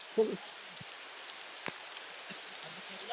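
Rain falls outdoors as a soft, steady hiss, faint and continuous, with a few small scattered knocks and rustles.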